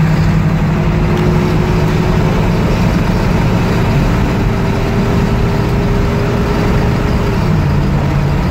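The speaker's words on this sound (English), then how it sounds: "There goes second to third, shifting nicely." An old 1976 GMC Jimmy engine drones loudly and steadily from inside the cab, its pitch shifting as it shifts from second to third gear.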